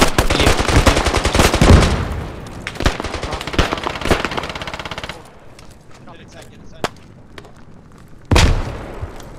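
Gunfire in a shooter video game set in a city defense: rapid automatic bursts crackle loudly at first, then scattered single shots and distant pops follow, with a sudden heavy burst near the end.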